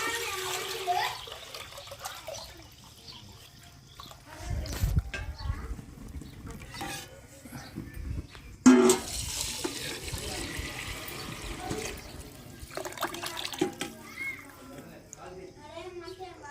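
Measured water poured into a pot of rice for cooking, a close splashing and trickling stream with a brief loud gush near the middle, heard alongside a person talking.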